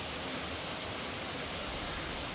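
A steady, dense rush of falling water from Simyeong waterfall in the Naeyeonsan valley fills the whole moment without a break.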